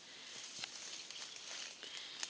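Soft, scattered pattering of caterpillar droppings falling from treetops onto leaves, a steady faint rain-like patter with occasional sharper ticks, no voices.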